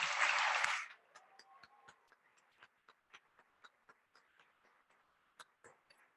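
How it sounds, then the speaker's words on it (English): A brief burst of audience applause at an awards luncheon cuts off after about a second, leaving a quiet room with scattered faint ticks and clicks. "let's give them a big round of applause as well"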